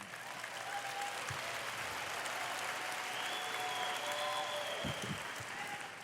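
An audience clapping in a hall, a sustained, even wash of applause for several seconds at moderate distance, with no clear voices over it.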